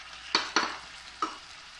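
Okra frying in a pan with tomato, three distinct scraping stirs over a soft, continuous sizzle, close by and with no voices.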